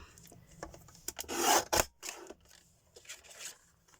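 Plastic being trimmed for a monochrome birthday card: a few brief, close rasping cuts and rubs, loudest in a short burst near the middle, with quiet pauses between.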